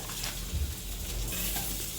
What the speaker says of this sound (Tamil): இஞ்சி பூண்டு விழுது, கரம் மசாலா தூள் சேர்த்துட்டு வதக்கி விடுங்க